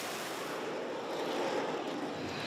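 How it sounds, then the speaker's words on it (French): A fighter jet lands on the deck of the aircraft carrier Charles de Gaulle. Its engine roars loudly and steadily the whole time, mixed with broad wind-like rushing and no speech. "Un atterrissage ultra précis pour attraper un câble sur le pont. L'avion freine brutalement."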